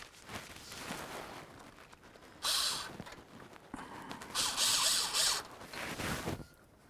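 Ratchet snugging a radiator hose clamp on a 2003-08 Toyota Matrix, a few quick close clicking bursts with pauses and faint handling noise between them, no speech.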